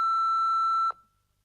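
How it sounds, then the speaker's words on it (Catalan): Answering machine beep: a single steady electronic tone holds loud and clean for about a second, then cuts off abruptly into silence. "Deixeu el missatge després del senyal."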